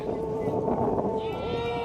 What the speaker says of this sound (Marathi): तिथं सगळी बकरी आहेत पलीकडं